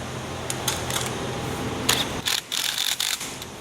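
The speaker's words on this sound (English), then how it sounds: "We are going to use the impact. Just kind of tighten it up." A power impact wrench tightening a bolt while installing a walk-in ornament, with short rattling mechanical bursts and clicks in quick succession, fairly close, with no talking.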